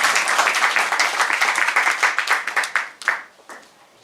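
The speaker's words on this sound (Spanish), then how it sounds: "Lo recibimos con un fuerte aplauso" A room of people applauds to welcome a speaker at a public event, a loud, dense burst of clapping that breaks into scattered claps and fades out near the end.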